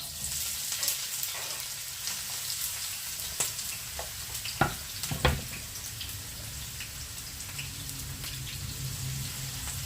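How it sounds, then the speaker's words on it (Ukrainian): Onion frying in hot oil in a pan for cheese soup with meatballs, a steady close hiss and crackle with a couple of sharper pops and a brief stir, no talking. "Розгоріла солітка, додаємо цибулю."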